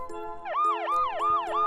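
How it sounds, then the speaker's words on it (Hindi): An ambulance siren wails in repeated rising-and-falling sweeps, loud and steady, with no voices over it. "ये साउंड एक एम्बुलेंस का साउंड है।"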